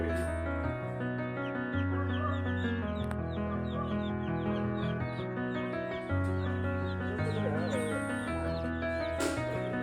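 Chickens and tiny chicks only two or three days old fill a chicken farm with rapid, high repeated peeping over a steady droning tonal background throughout.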